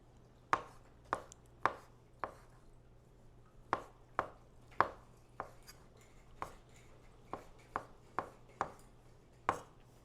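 A kitchen knife chops ingredients for an eggplant dish stuffed with shrimp, ginger and garlic. About a dozen crisp, sharp strikes on a cutting board land at an uneven pace, close and clear with no talking.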